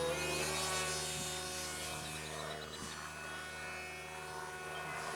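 A 1/20 scale radio-controlled F-117 stealth fighter propjet flies overhead, its propeller motor giving a steady buzzing drone with engine harmonics held through a banking pass, moderately distant and never stopping.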